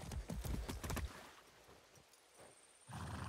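Horse hooves clip-clop in Far Cry 6 as a horse is ridden: a quick run of close, loud, rhythmic strikes for about a second, then quieter game ambience and a final louder rush of noise.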